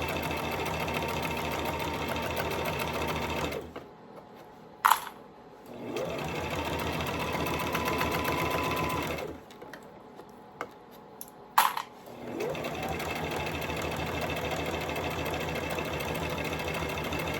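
Sewing machine double stitching a clutch purse runs in a steady close whir, stopping twice briefly with sharp clicks before starting again.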